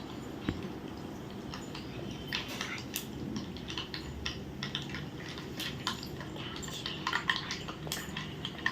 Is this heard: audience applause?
no